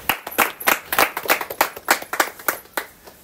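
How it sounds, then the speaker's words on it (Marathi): A small group of people clap by hand at a village gathering of farmers, with about fifteen uneven, fairly close claps that build and then taper, with no speech over them. "अरे वा, टाळ्या"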